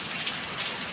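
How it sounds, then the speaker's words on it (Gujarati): Heavy evening rain pours down in a dense, steady hiss of drops striking surfaces, loud and even throughout with no voices. "હા, વરસાદમાં કાંઈ ઘટે નહીં હો. જોરદાર 1 કલાક પહેલાંનો શરૂ થઈ ગયો છે"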